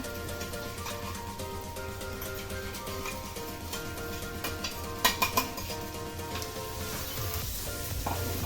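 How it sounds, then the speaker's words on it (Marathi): Green chili and ground peanut paste sizzle steadily in hot oil in a pan, with a spoon stirring and a few sharp metal clinks partway through. "आपण शेंगदाण्याचा कूट बारीक केलेला आहे तो तेलामध्ये छान असा परतून घ्यायचा"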